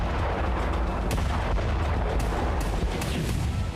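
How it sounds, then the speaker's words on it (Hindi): Explosions rumble through Sevastopol at night during a drone attack from the sea, a dense, continuous low roar with several sharp booming hits spread across it and no voices. "रात के सन्नाटे में पूरा इलाका धमाकों से थर्रा उठा।"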